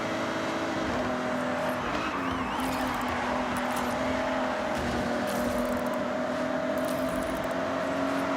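A car engine in the video game Forza Horizon drones at high revs with steady tonal harmonics that shift slightly in pitch, loud and continuous throughout.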